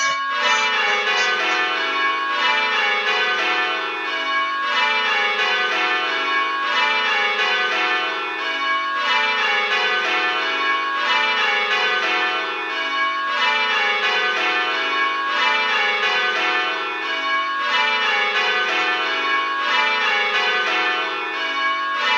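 Church bells ring continuous changes in an even, repeating rhythm for a striking listening exercise, one bell struck late at both handstroke and backstroke, steady and fairly loud with no voices.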